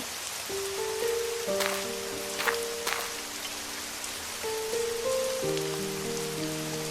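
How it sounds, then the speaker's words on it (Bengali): Rain falls steadily in a rural village, a soft constant patter on surfaces with a few louder drops, while gentle tonal music plays underneath. "এদিকে তো বৃষ্টি আরো বাড়তেই শুরু করেছে"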